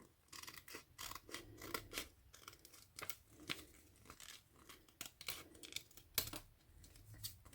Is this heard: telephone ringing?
no